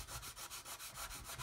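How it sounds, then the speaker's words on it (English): Sandpaper is rubbed over a seam on a primed plastic scale model coated with Mr. Surfacer. About eight quick, rhythmic back-and-forth strokes are heard up close, each one soft and scratchy. "So just sanding that there"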